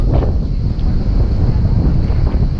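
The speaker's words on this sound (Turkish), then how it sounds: "Çok rüzgar var." Strong coastal wind at Inceburun, Sinop, buffets the microphone in a loud, continuous low rumble with gusty surges, no voices present.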